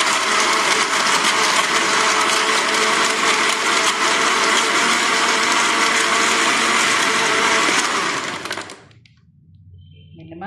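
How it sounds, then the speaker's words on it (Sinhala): A kitchen blender whirs at full power blending ambarella juice, a loud, dense, steady roar close by that runs for about eight seconds and then cuts off abruptly into near silence. "දැන් අපි මේක බ්ලෙන්ඩ් කරගමු."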